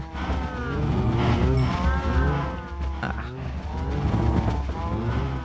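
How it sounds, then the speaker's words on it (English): Cows mooing in the video game Minecraft, with several low, drawn-out moos repeating across the clip over steady game sounds, fairly loud and close. "Yes, moo, more mooing."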